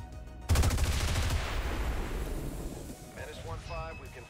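XCOM 2 video game gunfire, one loud burst of shots on a target opening sharply and rolling into a long decaying rumble, a faint voice heard near the end.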